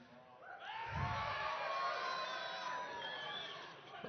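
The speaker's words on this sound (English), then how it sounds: "I got Bostonians to cheer for England" A Boston crowd cheers for England at the World Cup draw, a broad roar of voices and whoops swelling after a thump and holding steady for several seconds, loud and close.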